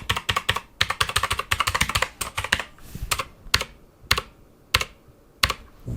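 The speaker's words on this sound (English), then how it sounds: "the blues are actually really nice because it's got a real kind of typewritery feel to it. But they are pretty loud." Typing on a budget Sumvision Acies mechanical RGB keyboard with blue switches: a fast run of sharp, loud clicky keystrokes, then slower, spaced single clicks, close up with no talk.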